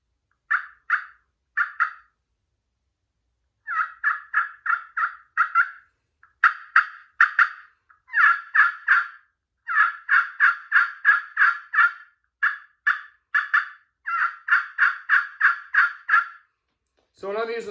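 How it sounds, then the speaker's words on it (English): Turkey yelps struck on a slate call with a hardwood striker such as purple heart: crisp, close series of clucks and yelps in uneven runs separated by short pauses. "I like to use the Purple Heart or laminate striker when I'm just out trying to strike up birds or just for kind of general yelps"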